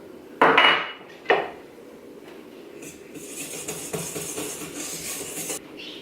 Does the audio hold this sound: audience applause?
no